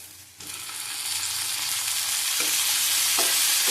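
Chopped tomato drops into hot oil in a pan at about 0.4 seconds, setting off a loud, steady sizzle that swells and keeps going, with a couple of soft stirring scrapes near the end and no talking.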